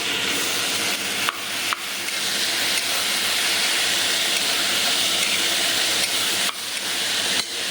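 Toor dal and vegetables fry in a pan with a steady, close hiss of sizzling. A few clunks of stirring break through now and then, and no one speaks.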